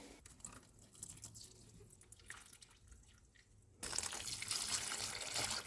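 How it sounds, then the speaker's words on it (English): Houseplants being watered indoors, soft drips and trickling water at first, then a steadier, louder pour of water for the last couple of seconds, with no voices. "Last thing to do is water the plants."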